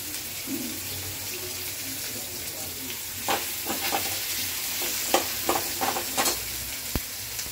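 Onions frying in a pan for chicken kosha, a continuous sizzle with intermittent scraping and stirring clinks, close and fairly loud.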